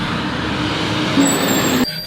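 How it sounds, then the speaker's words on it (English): A garbage truck rumbles past on the road, its low engine drone steady and loud, with a thin whine of air brakes before the sound cuts off abruptly. "Oh, garbage truck."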